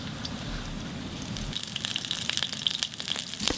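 Lemongrass sizzling in oil in a nonstick pan over medium heat, a steady frying hiss with light crackles and pops that grow busier toward the end, with no talk over it.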